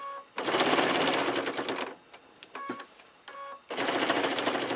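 A sewing machine stitches a row through quilted fabric letters with batting, a steady rapid mechanical whirr in two long runs separated by a short pause with small clicks and handling noises.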